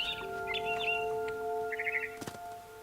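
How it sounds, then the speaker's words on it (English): Barn swallow in the game What Remains of Edith Finch, giving short bright chirps and twitters in small bursts over a steady ambient hum, moderately close. "Then I heard chirping outside my window."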